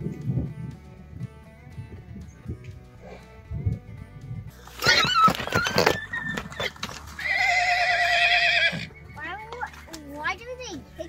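A stallion and a mare are turned loose together for breeding. Loud, close neighs and whinnies break out in two bursts, one shrill and wavering, amid people chatting nearby.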